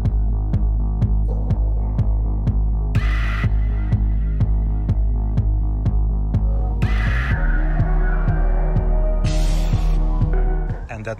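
A BMW E64 car audio amplifier emits a loud, steady low throbbing buzz with a regular pulsing beat, punctuated by bursts of higher hiss, continuing unbroken until it cuts off at the end.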